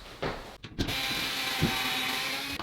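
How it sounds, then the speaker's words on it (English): Screws are undone on the cable clamp of a Zanussi ZOD580 oven: a few faint close clicks and ratcheting ticks from a hand tool over a steady background hiss, with no talk. "there's 2 screws for the clamp, so I'm going to undo that"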